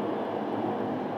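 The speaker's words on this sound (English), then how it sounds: "You hear the noise? That's the train." A broad, steady rumbling roar of a train crossing a railway bridge, heard continuously from close by without any voices.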